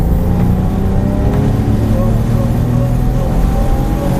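A Porsche 997 GT3 accelerates hard on a race circuit at Circuit des Ecuyers, its engine droning loud and steady from inside the cabin, with a voice talking over it.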